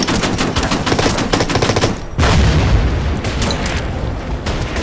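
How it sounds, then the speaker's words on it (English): Gunfire in the World War II strategy game Order of Battle: Panzerkrieg, dense bursts of rapid machine-gun fire and booming shots, loud and continuous with a brief pause near the middle. "Open fire once again."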